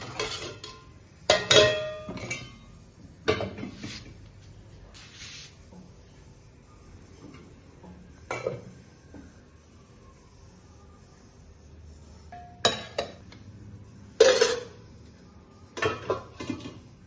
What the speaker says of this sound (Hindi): अब मैं आप लोग के लिए यहाँ पर जल्दी से थाली लगा लेती हूँ